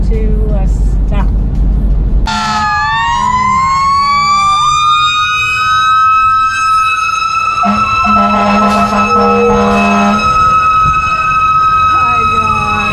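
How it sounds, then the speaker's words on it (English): A fire truck siren bursts in loudly about two seconds in and keeps wailing with rising and falling sweeping tones over a low engine rumble, holding close and steady to the end. "And now here comes a fire truck."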